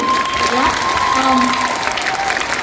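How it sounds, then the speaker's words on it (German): An audience at a cosplay contest in Bremen applauds loudly and continuously, with a voice talking over the clapping and a faint tonal hum underneath. "ich glaube, da sollten wir nochmal alle einen großen Applaus geben."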